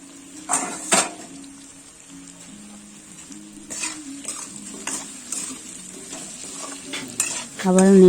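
A spatula scrapes and clinks around a pan of fish head and cabbage curry over a low sizzle, with irregular close metallic knocks and stirring strokes and no talk.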